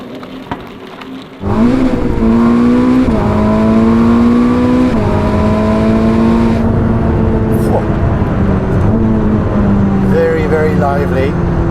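A Ferrari SF90, a 1000 hp hybrid supercar, accelerates hard with its engine note climbing through several gear changes, loud and close from inside the car, with talk over it.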